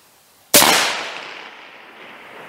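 A single loud rifle shot is fired at a steel target in a snowy winter setting. The sharp crack rings out close by and fades over about a second into a lingering echo.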